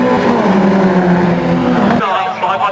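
Race cars accelerate hard around the Knockhill circuit in 2005, a loud, close engine roar that climbs in pitch and cuts off sharply near the end, with commentary talking over it.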